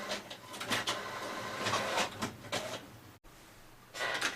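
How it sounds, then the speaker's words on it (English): Home printer printing label sheets, with repeated mechanical whirring passes and paper-feed clunks in an uneven rhythm, near and fairly quiet, with a brief cutout before the printing resumes. "you'll hear my printer start printing"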